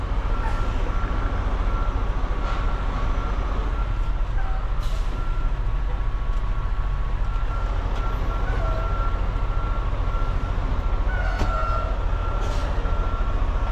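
A truck with a 53ft trailer reverses toward a loading dock in a tight yard, its backing-up beeper repeating steadily over loud, constant diesel engine rumble, with occasional air-brake hisses.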